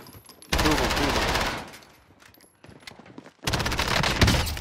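Bursts of automatic gunfire from an online shooter game, two long loud rapid-fire volleys separated by a quieter gap of scattered shots, close and dominant, with no speech over them.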